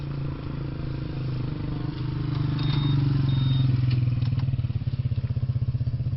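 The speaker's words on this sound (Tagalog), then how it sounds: "sindan ko lang yung motor" A motorcycle engine running steadily near at hand on a solo ride through the Cordillera Mountains toward Sagada, its low throb swelling slightly in the middle and then easing, with no voices.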